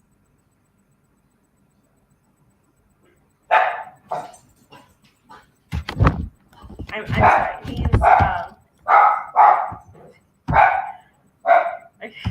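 Dogs barking in repeated bursts close by, mixed in with someone talking, after a quiet start.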